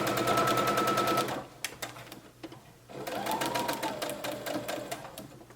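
Sewing machine topstitching one side of a bow hem, a rapid even run of needle strokes, pausing briefly then starting up again, close and clear.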